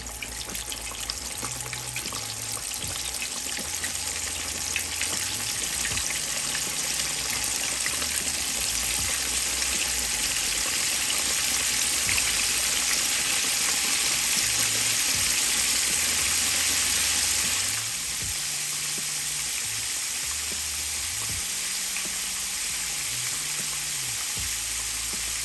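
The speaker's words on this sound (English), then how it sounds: "So now we're getting ready to start frying the fish." Mustard-coated fish fries skin side down in hot grease, a continuous loud sizzle and crackle close up that eases slightly partway through, with no talk.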